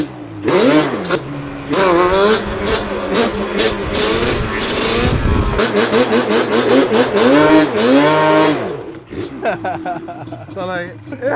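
An ATV engine revs loud and close after a cold start, with repeated rising and falling throttle blips and sputtering idle between them, while people talk over it.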